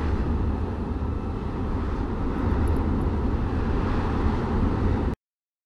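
Steady, loud aircraft engine drone while a plane taxis on the ground in a VR flight simulator near Daytona, a continuous broadband roar with no talk, cutting off abruptly at the end.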